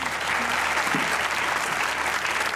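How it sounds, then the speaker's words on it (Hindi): Studio audience applause fills a Pakistani comedy talk show set, dense and continuous clapping from a crowd, held at an even level throughout. "तालियां होनी चाहिए।"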